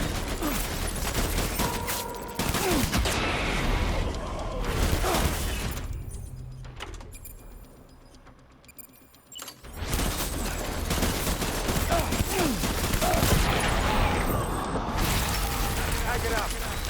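Heavy gunfire in the Death Stranding Director's Cut video game: dense, loud bursts with a quieter lull in the middle before the shooting resumes, along with voices giving orders.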